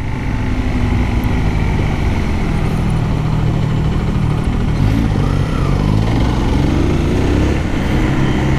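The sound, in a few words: motorcycle accelerating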